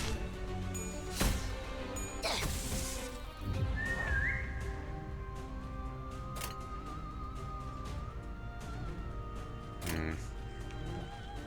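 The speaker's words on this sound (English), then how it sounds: "Whistle." A rising whistle sounds within busy combat effects and music in the video game Limbus Company, a thin pitched tone that slides upward and then holds steady for several seconds.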